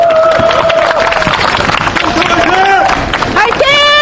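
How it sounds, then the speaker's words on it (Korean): Loud, dense applause and clapping from a crowd at an outdoor protest rally, close and continuous across the whole stretch, with chatter and voices mixed in and a tonal squeal rising near the end. "박수 부탁드립니다"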